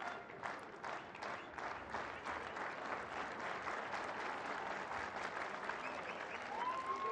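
A tennis crowd at the 2017 Marrakech final between Ćorić and Kohlschreiber breaks into steady, dense applause with scattered cheers, sustained and fairly loud throughout without a break.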